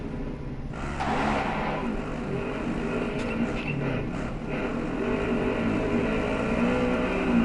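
A vehicle engine droning in a video game, a steady, moderately loud rumble that runs continuously, with a few faint voices talking over it.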